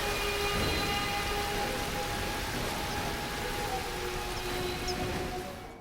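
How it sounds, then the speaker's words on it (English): A storm in Tomb Raider 2013: heavy, steady rain hiss with low thunder rumbling underneath, a faint sustained tonal layer above, and the wash of sound easing slightly toward the end. "distant rumbles of an almighty storm"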